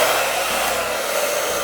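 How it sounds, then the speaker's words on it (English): A hair dryer blows in a steady, loud, continuous whoosh with no break and no voices. "my blow dryer with some gloves"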